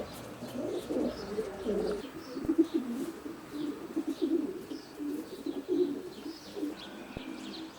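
Racing pigeon cocks coo throughout inside the widowhood section of a 30-foot racing loft, a soft layered murmur of overlapping calls with a few louder coos and light rustles.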